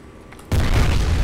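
A grenade in an office combat video game goes off with a sudden loud boom that rolls into a dense, sustained rumble close by.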